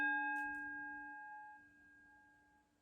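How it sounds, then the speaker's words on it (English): A single strike of a meditation bell rings out with a clear tone and a layered shimmer of overtones, then fades slowly on its own over a few seconds. "I'm going to play the sound of this bell"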